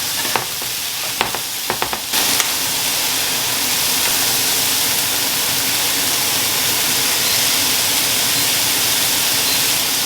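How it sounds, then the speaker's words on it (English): Egg whites simmer in a pan over lowered heat, a steady loud sizzle and bubbling hiss, with a few brief scraping taps at the start before the frying noise runs on alone. "So I lowered the heat and just let it simmer."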